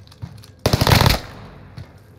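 Gunfire in Call of Duty on Rebirth Island, a short rapid burst of loud close shots lasting about half a second, with faint scattered pops before and after.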